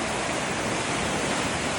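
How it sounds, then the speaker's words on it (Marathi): The Aare river in Switzerland rushing strongly down a slope between two mountains, a steady, dense, close roar of fast water with no pauses. "हा पाण्याचा प्रवाह जोरकस वाहत आहे"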